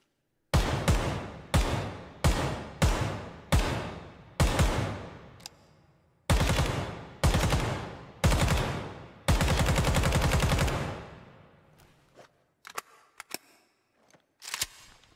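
An AK-105 rifle fires in the Ground Branch video game, loud close shots in short bursts and single rounds, each with a sharp crack and a decaying tail, ending in one sustained rapid burst before quiet clicks.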